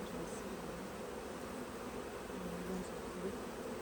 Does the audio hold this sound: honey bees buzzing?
yes